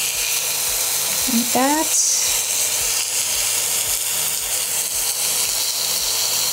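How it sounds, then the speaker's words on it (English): Beef for birria tacos sizzles steadily in hot oil in a pan, a constant bright hiss filling the clip, with a short spoken remark and a brief metallic clink partway through. "And now I'm gonna add it into the pan with the hot oil."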